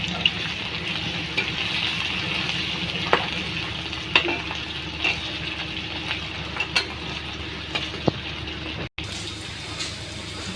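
Bay leaves, cumin, garlic and onion frying in oil, a continuous loud sizzle with occasional clicks of stirring and a brief dropout near the end before the sizzle resumes.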